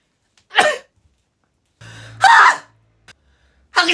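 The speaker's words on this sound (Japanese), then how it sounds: "いろんなくしゃみの仕方。" Several deliberately forced sneezes come one after another in a quiet room, each a sharp breathy burst with short silences and small sniffs between them.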